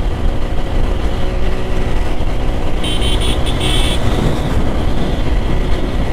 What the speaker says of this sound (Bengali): খুবই রাফ চালানো হইতেছে গিয়ার কিন্তু দুই অবস্থায় 132 উঠে গেছে